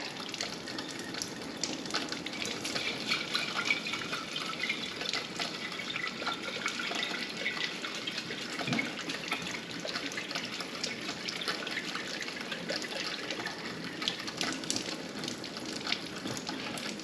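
Alfalfa and broccoli sprouts being rinsed under a tap, with a steady, close wash of running water splashing over them continuously and no talking.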